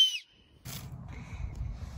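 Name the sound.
whistling through an acorn cap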